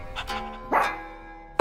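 A single dog bark in a video game, one short loud burst in the middle of a quiet stretch, followed by a sharp sound at the very end.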